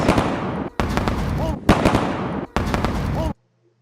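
Four loud, sharp bangs in quick succession, each with a bright crackling burst and a brief ringing tail, then sudden quiet.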